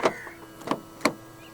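Three short mechanical clicks and whirs of a 2023 BMW 330i M Sport's door locks engaging after a door-handle press, spaced a fraction of a second apart, close and fairly quiet.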